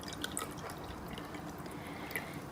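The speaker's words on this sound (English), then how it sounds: "So we are going to pour water into the glass" Water trickles and drips into a glass while mixing a carbon dioxide solution for a photosynthesis experiment, a quiet steady pour with small splashy drips throughout, no voices.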